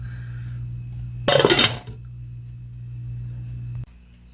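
A metal lid clanks onto a pot of simmering pepper steak, one brief clattering rattle over a steady stove hum, followed by a faint click near the end.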